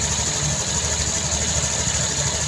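A Honda Vario 150 fuel-injected scooter engine, running hot with its red warning light on, is revved gently, a steady low throaty hum with slight vibration holding even and fairly close throughout.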